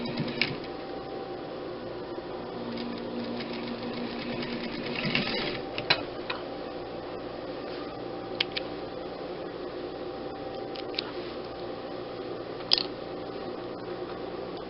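Sewing machine hemming a pillowcase, a soft steady mechanical whir with a few clicks and bumps of the fabric, close, continuous and without talk.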